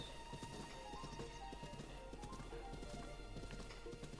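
Horse galloping in the video game Zelda Breath of the Wild, quick rhythmic hoofbeats drumming steadily and continuously over a soft ambient music bed; fairly quiet, with no speech.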